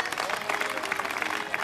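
Steady applause from a crowd at a youth football school event rises as one dense patter of many hands clapping, fairly close and sustained with no talk over it.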